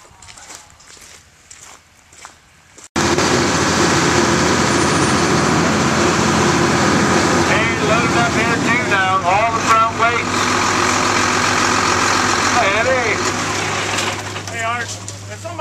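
An AGCO tractor sold at a farm equipment auction in Indiana starts up after a few seconds of quiet and settles into a loud, steady idle, with people talking over the engine noise.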